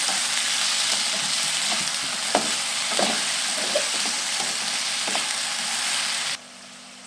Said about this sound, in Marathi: आता आपल्याला याच्यामध्ये आपल्या चवीनुसार साखर घालून घ्यायचं आहे आणि याला आणखीन फ्राय करून घ्यायचं आहे।